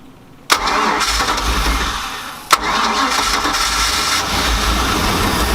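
The primed engine of a 1999 Chaparral 1930 SS boat cranks and catches twice, then settles into a loud, steady running rumble close by, with no talking.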